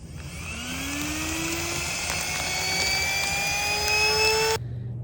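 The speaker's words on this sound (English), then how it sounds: "We're gonna go do round 2 of blow drying our clothes." A blow dryer roars steadily while drying wet clothes, its whine slowly rising in pitch before cutting off abruptly near the end; close and continuous, no talking.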